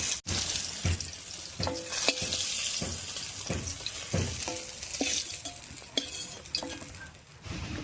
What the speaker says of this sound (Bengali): উল্টে পাল্টে চিংড়ি মাছটা বেশ লাল লাল করে ভেজে নিয়েছি